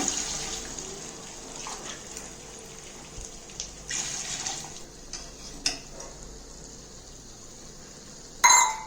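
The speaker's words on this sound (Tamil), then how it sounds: "நான் அந்த அரிசியில் எடுத்து தண்ணி இப்படியும் ஊற்றிக்கிறேங்க" Water pours and trickles softly into a container of rice for mutton biryani, with a few light clinks and a sharper splash near the end.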